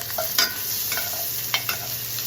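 Butter melting in a pan with rosemary sprigs, a soft steady sizzle with a few brief stirring scrapes and clinks.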